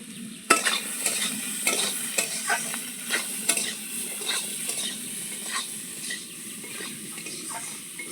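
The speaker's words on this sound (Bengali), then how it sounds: "কাঁঠাল দানার আলুটা দেখুন বেশ অনেকক্ষণ ধরে ভাজা ভাজা করে নিয়েছি" Potatoes and jackfruit seeds frying in a pan, a continuous close sizzle with repeated scrapes and taps as a spatula stirs them, steady over about eight seconds with no talk.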